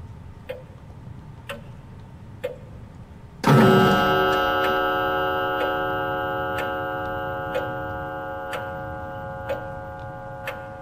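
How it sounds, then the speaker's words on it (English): A clock ticks steadily inside a horror video game, with faint regular ticks throughout and a loud ringing chime striking partway through and slowly fading under the continuing ticks. "Did I hear that clock?"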